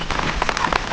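Heavy rain during Cyclone Remal pattering and splashing steadily on nearby surfaces, a loud, dense, continuous spray of drops with no voices.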